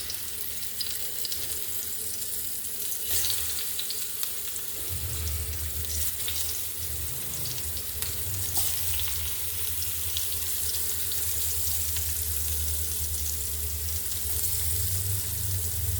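Ivy gourd (kovakka) pieces frying in coconut oil in a pan, a continuous close sizzling hiss that runs for a long stretch, with light clatter and a fuller, louder bubbling midway.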